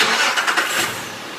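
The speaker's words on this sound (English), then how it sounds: "Okay, so there the car's running." A car engine turning over and catching after a remote start, a brief broadband burst of cranking that settles into a steady running hum, heard up close with no talking.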